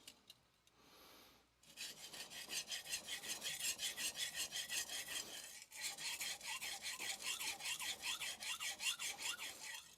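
Nakamura Hamono curved bunka knife honed on a Morihei 1k whetstone, with steady, rhythmic rasping strokes at close range, pausing briefly near the start and midway before the back-and-forth scraping resumes.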